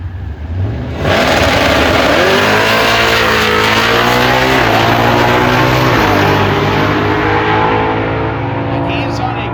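A slick-tire drag race car launches and accelerates at full throttle, engine roaring loud and continuous, pitch climbing through gear changes as it tears down the strip.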